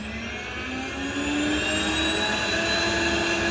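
A homemade vacuum motor unit with intake, outtake and filter runs steadily, a loud close whine with a pitch that climbs slowly as suction and airflow build, alone without talking.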